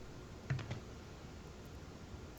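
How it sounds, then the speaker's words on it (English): Computer keyboard typing during a gaming podcast: a short cluster of three or four quiet key clicks over a low, steady room hiss, then nothing more. "I muted myself because my typing is loud, apparently."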